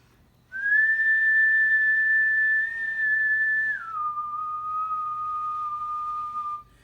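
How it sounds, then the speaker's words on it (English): Air blown through a tube gives a steady whistling, wind-like tone that holds one pitch for about three seconds, then drops to a lower pitch and continues, loud and close with no talking. "you kind of hear the air coming out of the tube as like a wind blowing kind of sound"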